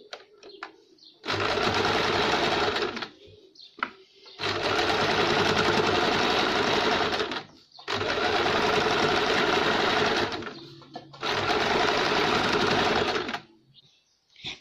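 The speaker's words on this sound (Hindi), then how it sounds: "इस तरह से अब हम फिनिशिंग के लिए यहाँ ऊपर की ओर एक सिलाई देंगे।" An electric sewing machine stitches a baby frock in loud, steady whirring runs of about three seconds each, four bursts separated by brief pauses with faint handling noises between them.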